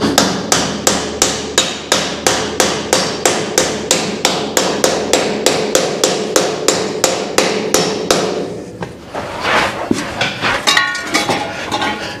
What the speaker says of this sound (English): I wonder what happens if I tonk on that with a punch and a hammer